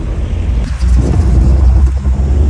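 Loud, steady engine rumble of a moving vehicle, heard from someone riding on its back on the way to the Palozhukumpara waterfalls, with continuous road noise and slight swells throughout.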